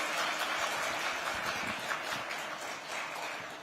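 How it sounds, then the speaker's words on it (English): An awards-ceremony audience at a tech innovation event applauds steadily, a dense, even wash of many hands clapping in a large room, moderately distant and sustained throughout without a break. "please give yourselves a huge round of applause"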